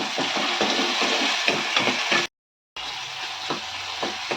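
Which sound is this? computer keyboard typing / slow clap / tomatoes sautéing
tomatoes sautéing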